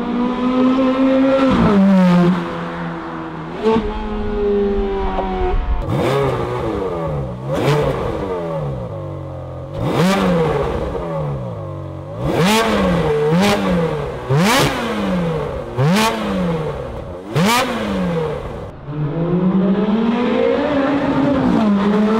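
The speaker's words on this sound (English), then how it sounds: "when the valve are closed, it kind of sounds like this" A Ferrari 430 Scuderia 16M engine revs repeatedly with exhaust valves closed, each throttle blip rising and falling in sharp bursts, loud and close with a deep, fairly muted exhaust tone.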